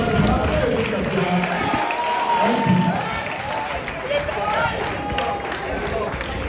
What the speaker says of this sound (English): With a rousing applause, receive the chairman statement.